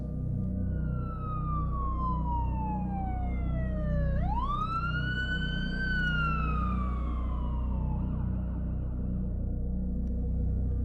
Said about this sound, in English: multiple sirens drawing closer by the second